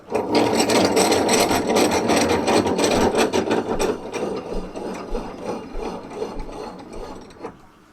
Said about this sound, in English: Just clamping that together to make sure it closes nice.